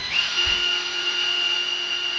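A SATA 51011 cordless lithium drill spins steadily in its low gear, about 560 rpm unloaded, giving a close, even motor whine with a faint click at the start.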